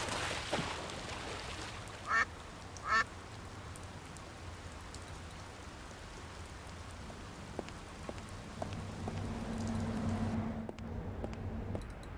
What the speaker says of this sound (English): This noisemaker seems to appeal to the ducks.